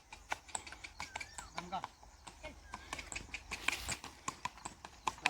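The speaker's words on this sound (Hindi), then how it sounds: "घुड़सवार आ रहा है मेरे सामने" Hooves of an approaching horse clip-clop on a farm field path, a steady run of sharp close hits repeating through the whole stretch, with faint outdoor background.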